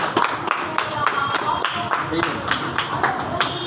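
A group of people clap in quick, even rhythm at a first birthday celebration held at an old-age home, the claps close and continuous, with a voice speaking over them.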